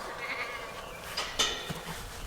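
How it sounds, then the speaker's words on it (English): A goat bleats briefly nearby on a farm, a short wavering cry over a quiet outdoor background. "Come here, goats."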